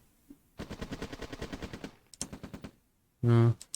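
Tank cannons fire on the move in the Red Alert (OpenRA) strategy game: a rapid rattling burst of shots, then a shorter burst and a loud sustained blast near the end.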